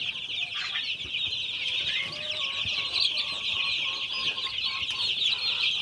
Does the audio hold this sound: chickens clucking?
yes